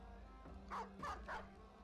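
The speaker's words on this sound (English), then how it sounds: "We can step forward this far and drop a dog." A war dog in the medieval tactics game Battle Brothers barks three times in quick succession, loud and close over a low ambient game hum.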